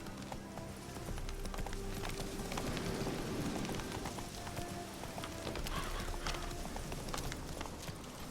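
Roach the horse gallops in The Witcher 3, hooves clattering in a quick continuous rhythm at close range under a faint background wash, with no talk.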